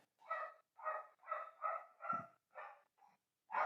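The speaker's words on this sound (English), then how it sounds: "There goes the dog" A dog barks repeatedly at close range, about seven evenly spaced, fairly loud woofs with short pauses between them, heard alone with no talking.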